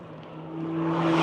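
A race car on a high plains track finishing its first lap, heard as a single rising engine whine with a steady tone that climbs and grows louder as it approaches, brief and fairly close.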